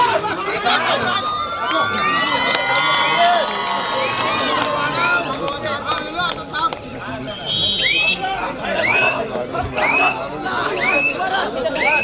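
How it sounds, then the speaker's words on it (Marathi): A crowd at a kabaddi match between village teams keeps up a loud, continuous roar of cheering and chatter, with shrill whistles and clapping mixed in and voices speaking over the noise. "मैदान क्रमांक 2 वर टाळ्यांचा गजर होते"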